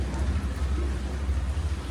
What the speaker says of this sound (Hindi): ध्यान से देखो कितनी तेज़ तेज़ बारिश हो रही है